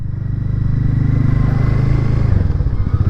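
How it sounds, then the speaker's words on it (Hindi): A Harley-Davidson X440 motorcycle engine thrums loudly and steadily up close while riding along with a passenger, its low rumble shifting slightly as it cruises. "और बाइक अपनी अच्छे से क्रूज़ कर रही है"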